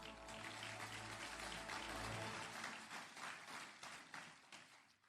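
Audience applause fills a new Faculty of Technology premises opening ceremony at Rajarata University of Sri Lanka, a dense, steady round of clapping that holds for several seconds before thinning out toward the end.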